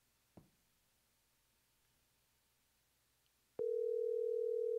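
Telephone line tone after a number is dialed: a click, then a steady continuous tone starts near the end and holds alone, loud and even.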